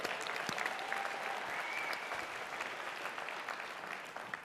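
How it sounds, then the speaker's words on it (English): Audience applause at the CPAC 2022 conference, a steady wash of clapping from a large crowd in a hall, fairly distant and even, easing slightly near the end. "yes, you're going to applaud that,"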